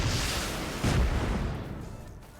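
An incendiary rocket launched at a wall in the game Rust: a broad, roaring burst of noise that swells sharply near the start, then trails off into a fading rush, with no voices.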